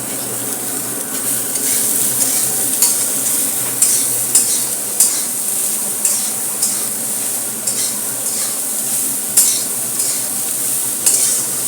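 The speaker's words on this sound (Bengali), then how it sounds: "এবার নিউট্রেলাকে একটু লবণ দেব, ভালো করে একটু কষবো।" Nutrela soya chunks are stir-fried with salt in a hot pan: a continuous loud sizzle with repeated scraping stirs and light clinks of a utensil against the pan, no talking.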